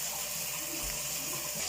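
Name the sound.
bath water tap running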